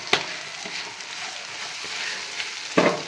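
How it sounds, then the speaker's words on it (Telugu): A pan of pav bhaji mixture with potatoes, chilli powder, coriander powder and salt is stirred. Soft sizzling runs under a few sharp scrapes and taps of the spoon against the pan. "మొత్తం ఒకసారి మంచిగా కలుపుకోవాలి"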